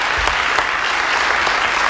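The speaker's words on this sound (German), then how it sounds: "Da kann man schon mal klatschen." Applause from a live concert audience at the Lausch Lounge in Buchholz, a steady dense wash of clapping throughout with no talk.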